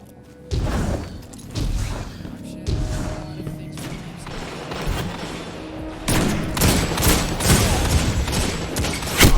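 Gunfire in the video game Destiny 2 during a Trials of Osiris match, with repeated loud close shots and bursts of fire, thuds and mechanical clatter that build into a dense volley toward the end.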